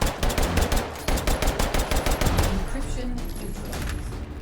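Rapid automatic gunfire in a video game, fired in loud, tightly spaced bursts that run into a steady stretch of shooting before easing off.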